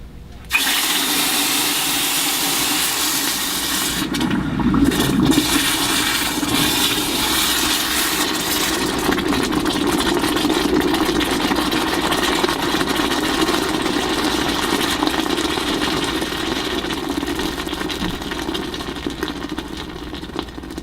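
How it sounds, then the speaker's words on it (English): A hot metal casting cylinder for a ring is quenched in water, giving a sustained loud hissing, bubbling rush that starts with a sharp burst and continues steadily without fading much. "We will now quench the cylinder. Listen to how hot it sounds."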